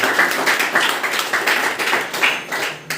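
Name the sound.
audience applause for successful students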